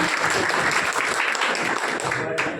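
A crowd welcomes guests at a press conference, applauding steadily, dense clapping for a couple of seconds, fairly loud, then tapering off at the end.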